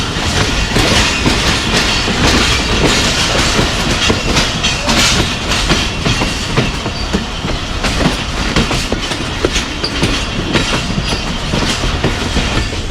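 The Jaffar Express rolls along rails through Punjab with a loud, continuous rumble and a steady clickety-clack of wheels, close and unbroken throughout.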